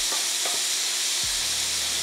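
Chilli beef frying in far too much oil, with a steady close sizzle and hiss and a few scraping stirs of the spoon through the pan.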